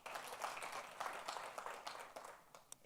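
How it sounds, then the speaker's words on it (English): A live-stream audience gives a round of applause for a health CEO, a thin scattered clapping that rises and falls in small bursts across the clip. "this applause. It's a hungry applause"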